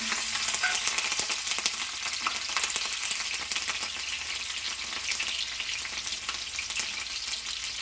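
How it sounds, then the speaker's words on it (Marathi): Chopped chili peppers frying in about two spoons of hot oil in a kadhai, a steady dense sizzle with faint crackles running throughout, close and fairly loud with no talking. "मग त्याच्यामध्ये आपण ही कट केलेली मिरची टाकायची आहे."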